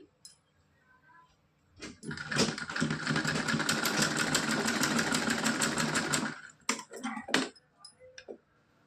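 A sewing machine runs in a fast, steady whir while stitching cloth for a small doll's dhoti-kurta outfit, about four seconds of continuous motor buzz framed by softer handling clicks and taps.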